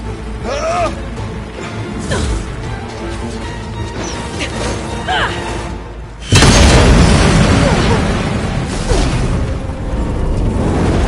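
Explosive ammo detonating in the video game Horizon Zero Dawn: a loud, sustained burst of booming blasts and crashing debris erupts partway through, following busy game action with brief voice sounds.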